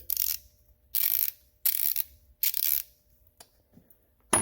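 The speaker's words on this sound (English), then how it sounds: "But she sounds good. 90 tooth ratchet." A 90-tooth half-inch Snap-on Icon ratchet clicking in four quick bursts of fine, rapid clicks, close and crisp, followed by a few faint single ticks.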